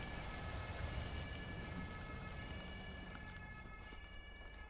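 Heavy pouring rain fills the scene with a steady, loud broadband hiss from start to finish, with faint tonal lines running through it and no talking.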